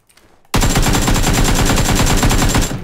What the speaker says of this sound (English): He's on the floor below, he's shooting at me.